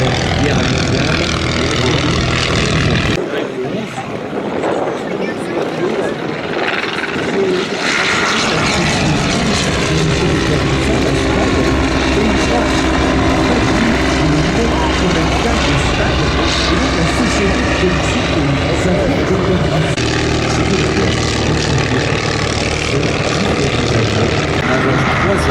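Propeller airplanes fly a World War I themed airshow display, giving a loud continuous engine drone that swells and recedes overhead while an announcer speaks throughout.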